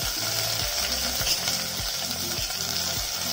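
Okra and tomato fry in a pan with sliced onion, giving a steady, dense sizzle with soft scraping and shuffling from stirring, close up and without voices.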